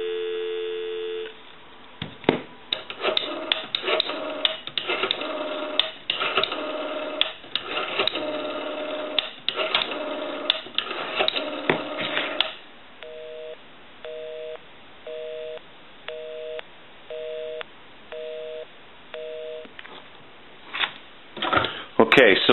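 A repaired French-style rotary telephone gives a steady tone, then clicks and whirs of dialing, then a repeating pulsed busy signal. Someone talks over parts of it.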